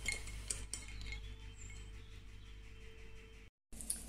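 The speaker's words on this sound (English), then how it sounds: "A brisk stir and it's done" A spoon stirs an iced matcha latte with hazelnut syrup in a glass, giving a steady run of soft clinks and scrapes against the glass and ice that stops abruptly near the end.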